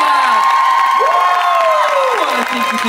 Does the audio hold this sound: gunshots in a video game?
no